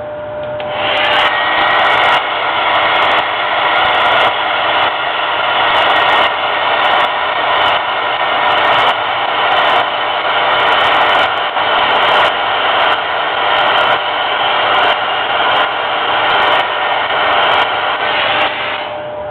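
A hair dryer blows steadily and loudly at close range for nearly twenty seconds, drying freshly brushed brown and black paint on a miniature figure, starting abruptly and cutting off at the end.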